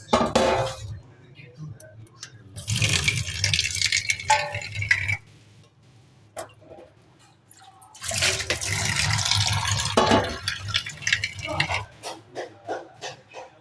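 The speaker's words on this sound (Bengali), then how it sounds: "থালাটা একটু ধুয়ে নেব।" A plate and other dishes are rinsed under running water in a home kitchen, with splashing bursts of flowing water, clinks and rattles of crockery, and pauses between rinses; a voice speaks briefly at times.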